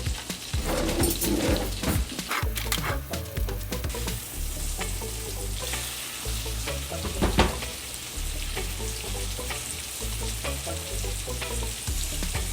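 Hamburger patties frying in a pan, giving a loud, continuous crackling sizzle that stays steady throughout, dotted with sharper pops and a few utensil clatters.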